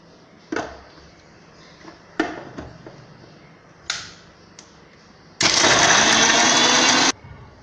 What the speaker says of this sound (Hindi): नारियल को मैंने पीस लिया,